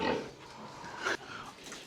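Pigs in a pen give a few short, soft grunts and snorts at close range. The grunts come in brief bursts over quiet background noise, with no talk over them.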